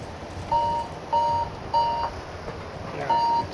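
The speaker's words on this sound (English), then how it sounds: "Stupid alarm." An alarm in Attack On Titan 2 sounds four evenly spaced, steady electronic beeps, each about a third of a second long, moderately loud over a constant background hum.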